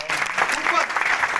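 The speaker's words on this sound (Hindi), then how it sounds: "जोरदार तालियां।" Audience applause at a political gathering in Jammu and Kashmir where party leaders join the BJP, a brief steady burst of clapping from a crowd with a speaker's voice carrying over it.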